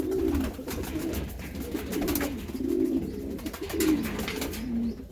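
A racing pigeon cock coos repeatedly to a hen in a loft, low rolling calls in a steady rhythm, fairly close, with soft rustling between them.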